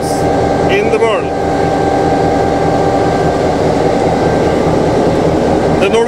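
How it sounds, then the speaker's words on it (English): A heavy Nohab/GM NSB class Di3 diesel-electric locomotive engine rumbles steadily at idle, a deep constant drone with a faint metallic squeal near the start and end. "GM diesel electric locomotive in Norway, made by Nyquist & Holm, Nohab in Sweden."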